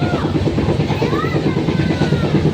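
A Howrah-to-Digha train rumbles along steadily with a low, continuous roar and rattling from inside the carriage.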